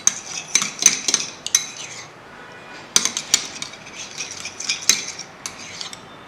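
A tablespoon stirs a homemade skin remedy in a small dish, giving bright metallic clinks and scrapes in two quick bursts with a short pause between.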